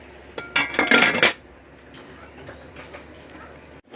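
A lid clanks and rattles onto a cooking pot of tinola, a short cluster of metallic clinks followed by a faint background hum.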